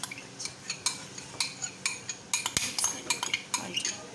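A spoon mixes ketchup into mayonnaise in a bowl, tapping and scraping in a steady rhythm of close, crisp clinks, with a quicker flurry of strokes toward the end.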